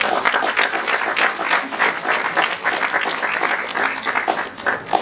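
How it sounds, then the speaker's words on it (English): Applause from an audience at a Ghanaian civic event honouring a recipient of the Order of Volta, with dense, steady clapping that holds for the full stretch at fairly loud level. "I thought you were going to give him a clap."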